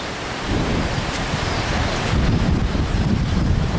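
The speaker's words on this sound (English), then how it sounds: "it's Three Kings Day today and it's blowing an absolute gale" Strong gale-force wind on Fuerteventura roars steadily and loudly into the microphone, a dense buffeting rush that swells slightly midway and never lets up.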